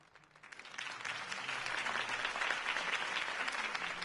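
Crowd applause in a Batman video game swells up quickly and holds as a dense, steady wash of clapping from a large audience, moderately distant and without voices.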